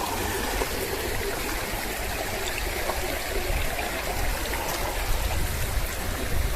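The Rivelin river rushes over a badly smashed weir in a wooded valley, a steady, close, full-bodied wash of flowing and splashing water with no voices.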